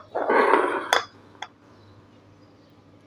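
Glass jars, 600 ml size for mango pickle, clink as they are handled in a kitchen: a short rattling cluster of knocks followed by two lone clear taps, close and fairly quiet.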